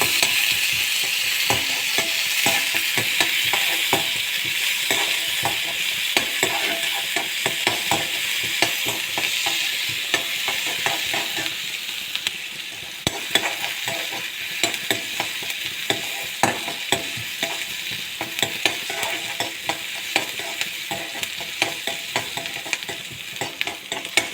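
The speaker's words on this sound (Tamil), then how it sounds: "வெங்காயம் நல்லா வதக்குங்க" Onions sauté in a pan of oil seasoned with cumin and mustard seeds, a steady close sizzle broken by quick rhythmic stirring scrapes and taps throughout, with no voices.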